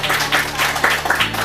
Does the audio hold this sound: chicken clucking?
no